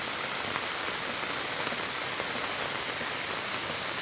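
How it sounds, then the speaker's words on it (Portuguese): Steady rain pours down in Camocim, northeastern Brazil, toward nightfall, a dense hiss of drops drumming on surfaces, constant and close with no voices. "Quase chegando a noite, a chuva continua."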